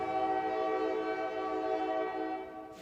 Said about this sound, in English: This disrespectful ass train.